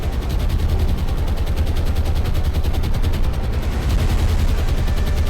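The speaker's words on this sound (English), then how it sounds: "Flying through heavy flak" Heavy anti-aircraft flak in a naval combat game set in the Pacific, a dense, continuous roar of rapid gunfire and booming bursts, loud and unbroken throughout.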